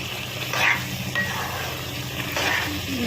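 Chicken curry with tomato gravy fries in a pan while being stirred, a dense close sizzle with soft scraping swells from the spoon running throughout.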